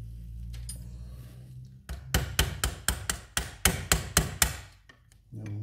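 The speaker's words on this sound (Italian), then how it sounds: "Devo dare qualche colpetto di martello" Around ten light hammer taps in a quick, fairly even series strike a Piaggio Ciao moped engine block while it is being opened to free the piston, each tap sharp and close, with a low mechanical hum beforehand and a brief pause near the end.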